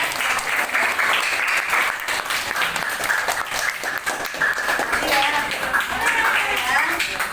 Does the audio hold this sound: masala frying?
no